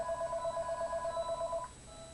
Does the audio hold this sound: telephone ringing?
yes